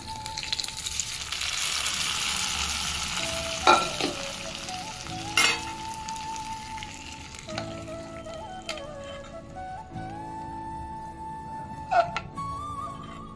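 Tempering sizzles as it goes into red lentil dal cooked with raw mango, making a soft hissing fry with occasional sharp clinks and taps of a utensil against the pot, and no one speaking.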